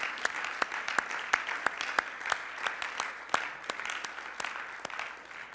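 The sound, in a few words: congregation applauding in church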